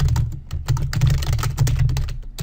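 Rapid keystrokes on a computer keyboard, including repeated taps of the space bar, clatter close and loud in a dense, uneven run with no voices.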